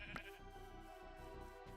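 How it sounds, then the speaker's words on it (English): Sheep in the video game Minecraft give a short bleat against a busy game soundscape, with the animal call standing out briefly near the start. "Ooh, some more sheep over there."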